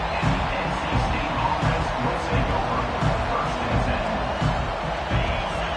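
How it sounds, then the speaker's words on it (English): A loud college football stadium crowd roars steadily, a dense wash of cheering and chatter that never lets up. "listen to this crowd noise. This stadium is vibrating."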